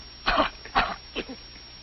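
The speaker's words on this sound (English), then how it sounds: "Cough." A person coughs close up, two harsh throaty bursts followed by a smaller third, like clearing the throat.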